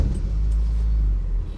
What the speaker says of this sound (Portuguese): Tá aí a S10 em funcionamento.